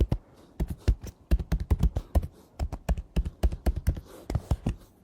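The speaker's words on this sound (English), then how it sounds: "then I'm gonna type a new password here" A password being typed on a computer keyboard: a quick, uneven run of crisp key clicks and taps, close up, with short pauses between bursts and no talking.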